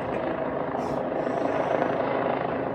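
A police Eurocopter EC135 P2+ helicopter circles over Bournemouth, its steady rotor and turbine drone filling the clip at a constant, fairly loud level with no clear pauses.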